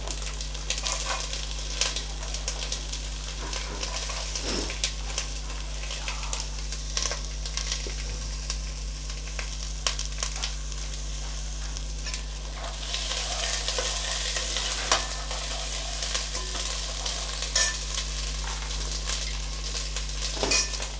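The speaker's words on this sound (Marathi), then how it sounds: "आता आपण सर्वप्रथम मटार टाकणार आहोत" Peas fry in a pan, a steady soft sizzle with stirring and occasional scrapes and clinks of a utensil against the pan, continuous and close for the whole stretch.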